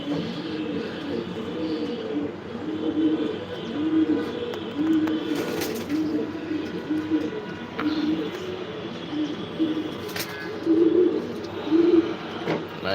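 Racing pigeons in a loft, some moulting, give repeated soft low coos in overlapping rounds, close and fairly steady, with a few faint chirps and background voices murmuring underneath.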